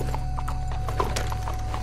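Horse hooves clip-clop in the video game Red Dead Redemption 2, a steady rhythmic trot of close, moderately loud hoofbeats over a constant low background hum.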